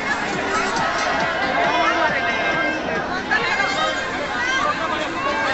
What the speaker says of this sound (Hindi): फिलहाल भीड़ बहुत ज़्यादा हो रही है, देखो।